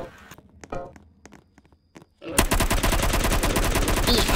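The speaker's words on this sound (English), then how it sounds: "I'm really digging this submachine gun. I gotta keep seeing it in action." A submachine gun fires in the Roblox zombie game Rise of the Dead: after quieter scattered clicks and footsteps, a loud, sustained rapid burst of automatic gunfire begins and continues steadily to the end.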